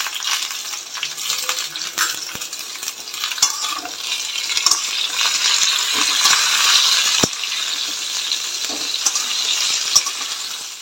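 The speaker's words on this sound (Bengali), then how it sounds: "এখানে করছি এখন আমি উচ্ছেটাকে একটু ভাজা ভাজা, কারণ শুক্তো করব।" Bitter gourd fries and sizzles in a pan for shukto, a constant bright crackle punctuated by occasional sharp scrapes and taps of a spatula stirring close by.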